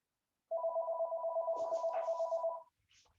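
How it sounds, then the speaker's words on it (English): Telephone ringing indoors during a charcoal drawing demo, one steady electronic ring lasting about two seconds, clear and fairly close, followed by faint rustling. "I'm just ignoring that phone."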